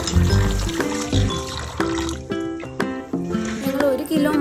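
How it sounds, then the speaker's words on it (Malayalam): Running water splashes and drips as raw chicken pieces are rinsed clean, one kilo for a chicken mandi, with someone speaking over the sloshing. "അപ്പോൾ അതിന് വേണ്ടിയിട്ട് നമ്മൾ ആദ്യം തന്നെ ചിക്കനൊക്കെ നന്നായിട്ട് കഴുകി വൃത്തിയാക്കി എടുക്കുന്നുണ്ട്"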